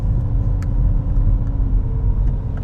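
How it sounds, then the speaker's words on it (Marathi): A car engine descends a mountain slope in low gear, a steady droning rumble with a faint whine and no talk. "अशी आवाज करते गाडी."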